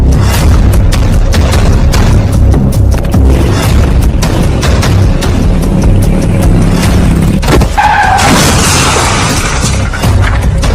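A vehicle crashing under a lorry on a road, with continuous heavy engine and traffic rumble and sharp impacts, then a loud crunching boom with scattering debris near the end.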